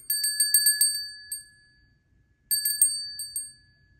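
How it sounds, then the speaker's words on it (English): Two separate runs of rapid, ringing strikes from a large bell with a clapper inside, loud and close, each trailing off into a sustained metallic ring with a quiet gap between them. "Tinkling Bell Large,"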